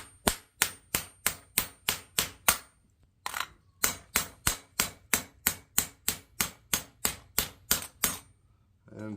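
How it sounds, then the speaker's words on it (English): A hammer repeatedly strikes hot forged iron to flatten the bottom of a candle holder on an anvil, sharp ringing blows in steady rhythmic bursts with one brief pause, close and loud. "I'm going to use the flat side of my hammer"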